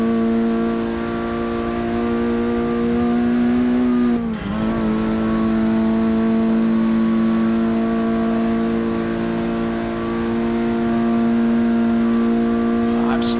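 Race car engine in Forza Motorsport 6 holding a steady high-rev drone near 7,500 RPM, with a brief dip around the midpoint before returning to a sustained loud whine; a voice talks over it.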